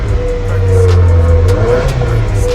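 A Subaru WRX with a 2.4 litre turbocharged boxer engine revs loudly and close by, a steady throaty roar that swells and eases without any talk.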